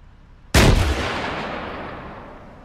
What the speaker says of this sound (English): Why'd that one just detonate in the air?